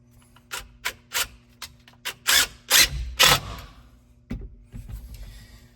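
Hardware is screwed down for an RV basement slide, heard as short, irregular bursts of a powered driver. The bursts have scraping, rubbing textures and quiet gaps between them, close by and with no one speaking.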